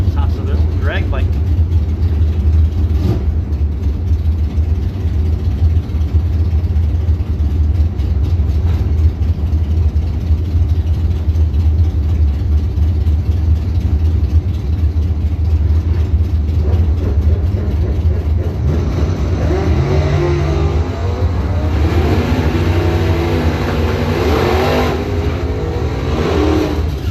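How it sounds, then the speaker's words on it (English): A Camaro and a drag bike at a drag racing event roar steadily at the track, engines droning loudly throughout and rising to a revving surge near the end, with a voice talking over the noise. "There's new Camaro taking on Ty Hamilton, Thompsonville drag bike."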